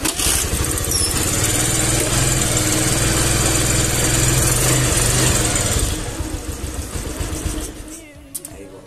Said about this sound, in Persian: گاز موتور رو بیشتر کنم